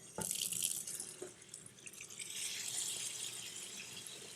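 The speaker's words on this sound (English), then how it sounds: "to begin this process, you're going to have to rinse a can of garbanzo beans" Canned garbanzo beans rinsed under a running kitchen tap, a steady hiss of flowing water with splashing against the beans and sink, fairly quiet and without talk.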